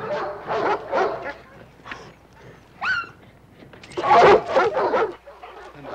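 Attack dogs guarding the grounds bark in loud, close bursts, several sharp barks in quick succession with a yelping whine between them and a heavier cluster of barking near the end.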